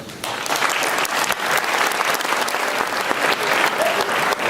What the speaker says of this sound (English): I'm going to ask them now to stand and us to recognize them with our applause